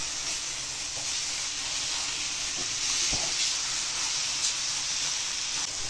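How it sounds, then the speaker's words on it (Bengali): Mutton keema sizzles in a pan with chana, a steady broad hiss that stays even and close throughout, broken by a few faint clinks of a spoon. "মটন কিমাটা এখন এর মধ্যে দিয়ে দিলাম। দেওয়ার পর এটাকে ভালো করে আমি কষাবো।"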